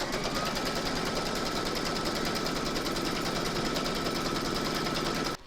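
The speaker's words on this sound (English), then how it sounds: "Pop your hoop back into your machine and stitch round number 2 to secure it." An embroidery machine stitches a securing round on an in-the-hoop photo frame, a continuous rapid, even needle chatter heard up close for several seconds before it stops.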